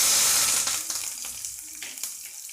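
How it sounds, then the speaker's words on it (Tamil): Green chilies, dried red chilies and curry leaves hit hot oil in a pan of mustard seeds for Tamil mor kuzhambu, giving a loud, steady sizzle and crackle that gradually eases off, with no talking. "இப்போ அந்த பச்சை மிளகா வர மிளகாவையும் கருவேப்பிலையும் சேர்த்துடலாம்."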